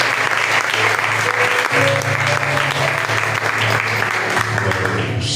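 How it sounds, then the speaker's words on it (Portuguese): Church congregation applauds during a Sunday service, a continuous crowd clap sustained under steady low organ or keyboard tones, with the clapping filling the room evenly from start to finish. "Se aplaude ao Senhor."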